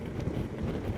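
Wind buffets steadily on a KTM 1290 Adventure S motorcycle ride on a breezy day, a dense low rumble of rushing air against the microphone with no talking.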